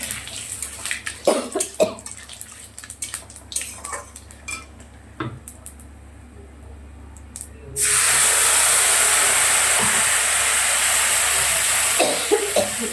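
Whole cumin seeds and a bay leaf go into hot oil after potatoes and pointed gourd have been fried, and a loud, steady sizzling hiss bursts up partway through, following clattering pan and utensil knocks, without speech.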